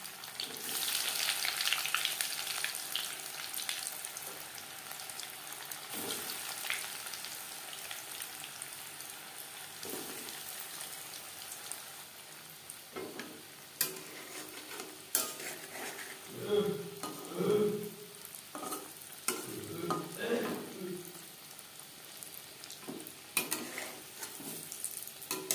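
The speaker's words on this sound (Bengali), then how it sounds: "চপ ভাজবার জন্য বেশ খানিকটা রিফাইন্ড অয়েল গরম করে নিয়েছি" Egg devil chops fry in hot refined oil over a medium flame, giving a soft, constant sizzle with scattered crackles. Occasional clinks and bubbling bursts come from the pan in the second half.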